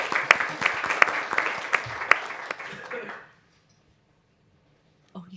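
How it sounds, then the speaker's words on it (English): Audience applause at a board meeting: a burst of many hands clapping with a few sharper claps, lasting about three seconds before cutting to silence, then a brief low thump near the end. "So if we could please give her a round of applause as well."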